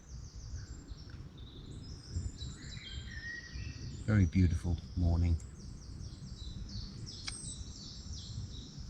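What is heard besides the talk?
birds singing dawn chorus in the early morning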